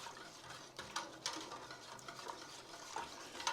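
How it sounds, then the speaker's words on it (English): Spoon stirring sugar into bourbon chicken in a pot on the stove, soft scraping strokes with a few light clinks, quiet and close. "I'm trying to stir that up, start getting that sugar dissolved."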